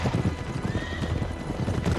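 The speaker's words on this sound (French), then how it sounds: "il s'est monté à cheval comme un pro" Horse hooves clip-clop at a steady gallop rhythm, close and loud, with a brief whinny partway through, ridden in the video game Uncharted 3 amid a storm-bound desert scene.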